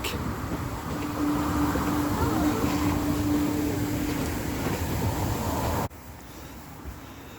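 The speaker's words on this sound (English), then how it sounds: "from this point on the train actually has to just go backwards for the ride back" A miniature railway train rumbles along steadily with a faint mechanical hum, fairly close, until the noise drops off abruptly toward the end.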